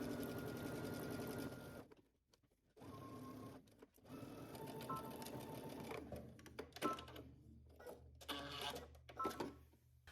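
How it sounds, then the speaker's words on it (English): A sewing machine stitches a gathered seam joining fabric to a yoke at a 5/8 inch seam allowance: a close, rapid mechanical whir with short pauses and restarts. No one speaks. "we can go ahead and stitch using 5/8 of an inch seam allowance"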